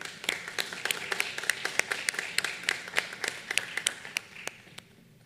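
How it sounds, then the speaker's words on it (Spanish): A dental aesthetics congress audience applauds a doctor receiving an award with sharp, distinct hand claps in a quick, irregular rhythm, fairly faint and slightly distant, tapering off toward the end. "Un aplauso fuerte para ella"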